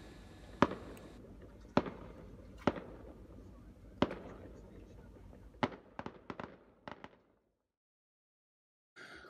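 Evening fireworks show at a Greek island anchorage, heard as a series of sharp bangs spaced a second or so apart over a murmur of background voices, the bursts thinning out before the sound drops to near silence.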